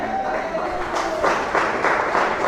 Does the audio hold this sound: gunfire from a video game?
no